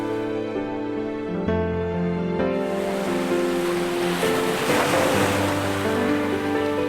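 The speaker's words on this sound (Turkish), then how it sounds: "Bırak kendini dalgaların hafif sallantısına" Ocean surf washes in steadily with a broad rolling wash and a wind-like rush, sitting under sustained low tonal music or drone throughout, with no voices.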